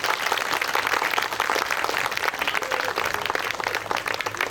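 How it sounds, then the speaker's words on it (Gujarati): Applause from an audience at a civic ceremony in Bhavnagar marking the start of road construction, a steady wash of clapping that holds through the whole stretch at moderate loudness. "મજા આવે, તાળી પાડો"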